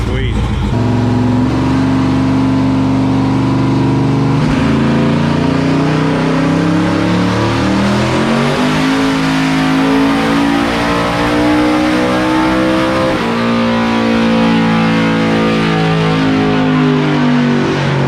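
A twin-turbo LSX-swapped Cadillac Escalade engine revs hard on a dyno, sustained loud roaring as it climbs through the revs and holds near the top, with voices mixed in.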